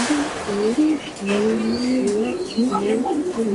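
Racing pigeon cooing in a steady string of low, rolling coos close by, with a few faint chirps mixed in and no one talking.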